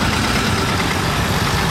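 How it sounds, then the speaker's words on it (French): A small tractor engine idles steadily at close range on a busy Paris street during a large car gathering, a continuous low rumble with no voices over it. "D'où il arrive avec son petit tracteur, lui."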